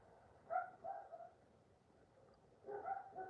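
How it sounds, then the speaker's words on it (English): A pet dog named Shrimpo gives two short bursts of barking or yipping, at the start and again near the end, fairly faint and somewhat distant, with no talk over it. "you guys can hear the dog"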